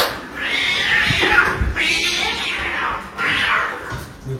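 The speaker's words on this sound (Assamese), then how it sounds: "ইফালে মেকুৰীৰ কাজিয়া চলি আছে" Cats fight nearby in a household setting, with loud, drawn-out rising and falling yowls that repeat in three long waves over steady background noise.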